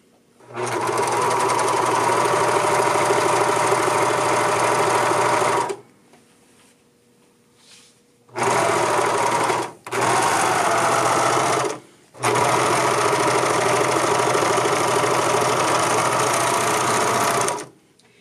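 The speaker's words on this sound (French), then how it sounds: "je vais venir faire la finition à la surjeteuse" Serger overlock sewing machine finishing the seam of a tunic, loud fast mechanical whirring in several bursts with short pauses between runs.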